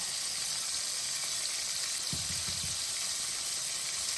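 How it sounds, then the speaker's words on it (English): Thick-cut pork loin chops fry in a pan with a steady, loud sizzle that fills the whole moment, a brief low thump briefly cutting through the crackle. "These fried pork chops that I'm cooking for dinner tonight"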